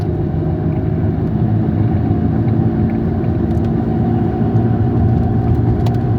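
A drop-top BMW convertible engine idles with a steady low rumble and hum, loud and close, even throughout with no talking.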